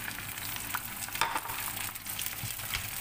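Water poured into a hot pan of browned lentils sets off a dense, continuous sizzle with crackling spits, steady and fairly loud with no talk.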